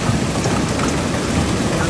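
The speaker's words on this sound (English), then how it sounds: "Residents shared videos to NT Sage showing hail battering their homes and businesses" Hail pounding homes and businesses during a storm in East Tampa, Florida, as a dense, continuous loud roar of pelting ice with no break across the whole stretch.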